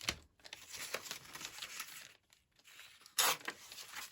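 Paper book page being ripped down to size, soft close tearing and crinkling in short bursts with a louder sharp rip near the end, quiet overall.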